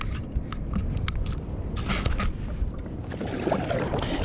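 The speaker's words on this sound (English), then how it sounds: "Let's get paddling." Paddling a small boat on the ocean while out fishing: a continuous wash of water and wind with soft splashes and faint scrapes of the paddle strokes, moderately close and steady, no voices.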